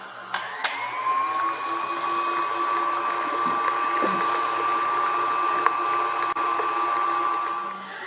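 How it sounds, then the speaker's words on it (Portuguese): Electric stand or hand mixer beating eggs with sugar for a Christmas walnut pie batter, a steady high motor whine running continuously throughout, close and loud with a few faint clicks near the start. "aqui nós vamos bater todos os ovos junto com o açúcar"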